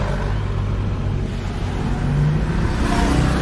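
Large buses rumbling close by near Batu Karas beach, a continuous loud low engine drone that swells slightly toward the end.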